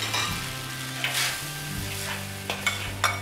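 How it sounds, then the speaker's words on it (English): Rice vermicelli being stir-fried with seasonings in a wok over low heat, a steady close sizzle with scraping and tossing strokes of a utensil against the pan, no voices. "Stir fry over low heat. As high heat at this stage will cause the vermicelli sticking to the wok."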